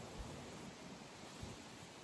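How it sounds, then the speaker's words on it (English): Steady, faint wind noise buffets the microphone in a constant broadband rush, with a couple of soft low thumps and no voices. "it's quite windy today."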